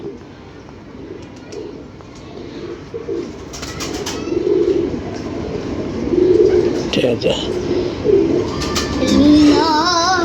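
Pigeons in a loft coo softly in low, rolling bursts close by, with occasional wing flutters and handling noises, while people talk over them.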